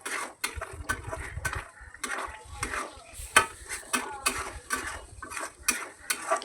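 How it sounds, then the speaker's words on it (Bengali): Fried onions being stirred into egg korma in a pan, with repeated close spatula scrapes and clinks against the metal and a faint sizzle underneath, in an uneven stirring rhythm. "ভালো করে নাড়াচাড়া করে নিচ্ছি"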